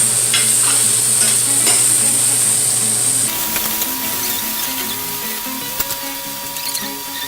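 Beef and chayote sautéing in butter in a pan, a steady close sizzle with stirring scrapes and clinks, and a high hiss that cuts off partway through.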